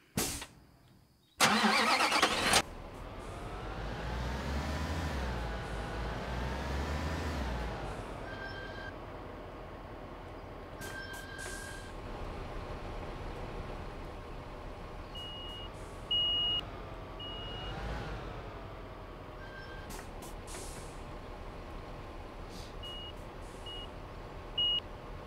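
A truck in the construction game Bau Simulator cranks and starts with a sharp rattle, then settles into a steady rumbling idle while intermittent reversing beeps sound in short repeated runs over it.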